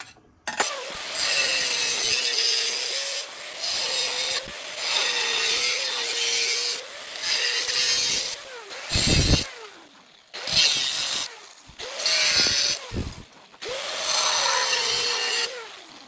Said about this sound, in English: So now we're gonna put this into our vise. We're gonna go ahead and cut this piece